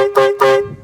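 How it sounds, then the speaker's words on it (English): An air horn gives two short, loud blasts in quick succession, close by, each ending abruptly. No voices are heard. "I would start the day off with the old traditional air horn"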